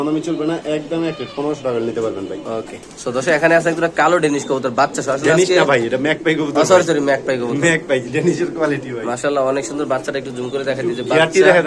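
Pigeons coo in repeated throaty, warbling calls at a pigeon sale, close and fairly loud, while people talk nearby.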